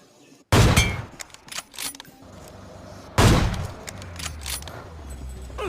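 Two loud sniper rifle shots ring out about three seconds apart in the BGMI battle royale game, each followed by echoing tails and faint clatter.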